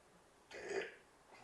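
A single burp from a person on a live show, rising at mid-clip and fading over about a second, fairly close and moderately loud, with no talking over it.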